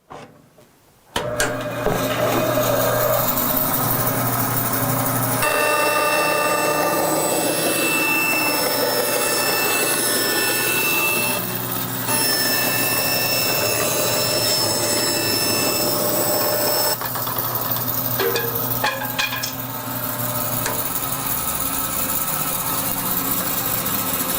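A RIKON 14-inch bandsaw runs loud and steady with a high whine as it cuts about an inch off a piece of wood, the tone shifting as the blade works through the cut.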